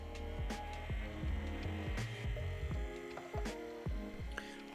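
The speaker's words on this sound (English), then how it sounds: "Or plug in a tiny motor." A tiny electric motor drives a 3D-printed screw sorter, giving a low, steady hum with a regular, throbbing pulse and light mechanical ticks, fairly quiet and close.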